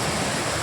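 Rainwater gushing across a highway construction site as a dense, loud, continuous roar of rushing water, very brief and with no voices.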